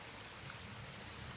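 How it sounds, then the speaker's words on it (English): Rain-fed water running down a waterfall onto Killiney Beach, a steady broadband rush with no break, moderately faint and alone. "We've had a bit of rain. Water's really running down here now."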